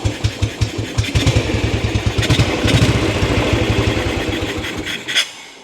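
An old Ariel motorcycle engine runs after a coil replacement, thumping in a fast, even beat that settles into a steady close idle before cutting off near the end, with no talk.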